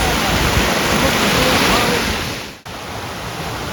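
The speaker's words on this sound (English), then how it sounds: "You get the massive impact of the waterfalls." A Lake District waterfall swollen after rain makes a loud, continuous rushing roar close by, briefly cut off near the end and then resuming.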